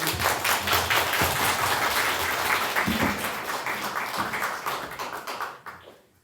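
A church congregation applauds, with dense, sustained clapping from many hands filling the room and close, before it tapers off at the end.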